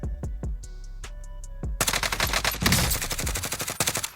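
Gunfire in Call of Duty Warzone: a handful of spaced single shots, then a dense, loud run of rapid automatic bursts that continues to the end.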